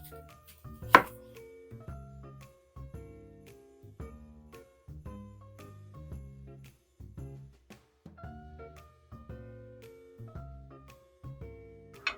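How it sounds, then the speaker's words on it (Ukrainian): A knife chops an onion into half rings steadily on a board in quick repeated strokes, close and clear, with a single bright clink partway through. "Будемо нарізати цибулю, а нарізаємо ми її пів півкілечками."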